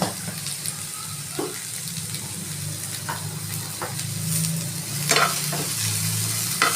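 Cinnamon and cloves fry in a pan, a steady, close hiss of hot oil with occasional light scrapes and taps of a spoon stirring.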